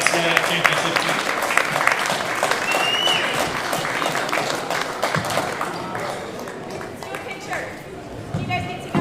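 A crowd in a gym claps at a high school wrestling alumni night honouring a 1975 championship team. Loud, dense applause with scattered cheers runs throughout and eases slightly toward the end, while a voice talks over it.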